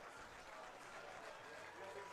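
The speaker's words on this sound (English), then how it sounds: "that is the end of the day for pitcher Nick Dugan, who will get applause from the stands here" Applause from the stands at a college baseball game, Penn State at Stanford, as pitcher Nick Dugan leaves the mound; faint, distant steady clapping under crowd murmur throughout.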